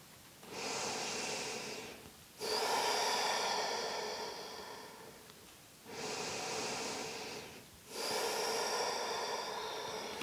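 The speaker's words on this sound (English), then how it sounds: "two more deep breaths" Slow, deep breaths during a restorative yoga hip stretch: four long airy inhales and exhales, close and steady, each lasting about two seconds with brief pauses between, no speech.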